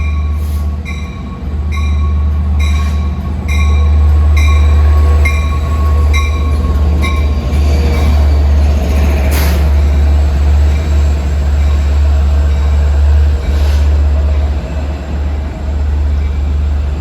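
LIRR train 562, Jamaica to Oyster Bay, eases through the switch at Nassau 2 on a damp day, a loud steady diesel rumble with wheel clatter and flange squeal running throughout, close and continuous.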